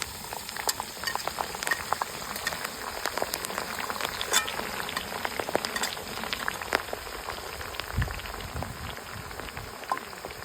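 Sliced onion and amla frying in melted coconut oil for a homemade hair oil, a busy continuous crackle of sputtering pops and bubbling, fairly close and even in level throughout.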